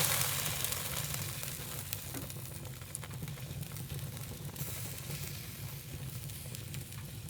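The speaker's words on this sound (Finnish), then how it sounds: "mä paistan näitä tossa kaminan pesässä makkaratikulla" Sausages frying on a stick inside the firebox of a wood stove give a steady, close crackling sizzle that runs unbroken throughout, with no talking.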